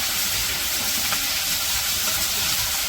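Taki fish sizzle in hot oil on a village stove in Bangladesh, a steady close hiss of frying that continues unbroken with no talk.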